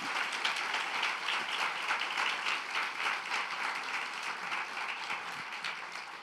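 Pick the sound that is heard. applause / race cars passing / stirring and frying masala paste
applause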